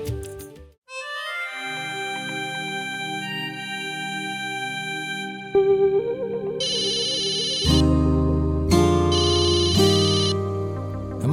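A mobile phone rings with a synthesized melodic ringtone in a Tamil TV drama scene, a looping tune of bright electronic tones that grows fuller and louder partway through, with no talk over it.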